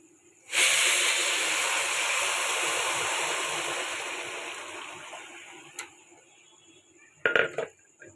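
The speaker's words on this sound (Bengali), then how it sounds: "তো আমি এবার এর মধ্যে জলটা দিয়ে দেবো।" Measured water poured into a hot pot of pulao sizzles loudly with a steady hiss that slowly fades over several seconds, followed by a few brief clinks of a pot or utensil near the end.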